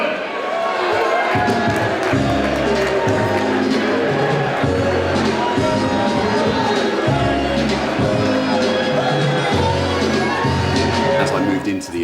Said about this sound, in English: As I moved into the arena and obviously heard the crowd and the music started